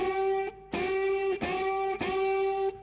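Heavily distorted electric guitar unison bends ring out in four sustained strikes, each held with a slight pitch bend, loud and close.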